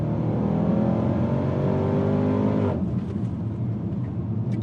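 A 2018 Range Rover Sport SVR with a tuned exhaust revs loudly up close, its engine note climbing steadily for nearly three seconds before cutting to a lower, rumbling idle.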